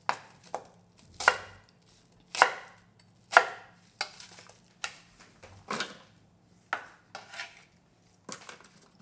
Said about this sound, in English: And 1 large onion. Cut into chunks.